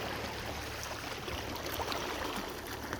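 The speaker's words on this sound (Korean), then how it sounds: "파도도 조금 더 치고 조류도 조금 더 움직입니다" Sea waves and a moving tidal current at a shore fishing spot in Namhae, heard as a steady, soft broadband wash of water with no distinct breaks and no voices.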